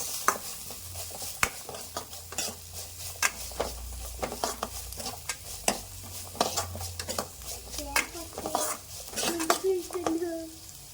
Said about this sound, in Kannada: ಸ್ವಲ್ಪ ತರಕಾರಿ ಎಲ್ಲ ಬೇಯಬೇಕಲ್ವಾ, ಅದಕ್ಕೆ ಇಷ್ಟು ಫ್ರೈ ಮಾಡ್ಕೋಬೇಕು